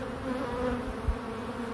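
A honeybee swarm fans at a swarm attractor, making a steady, close, droning buzz of many wings that holds evenly throughout with no talking.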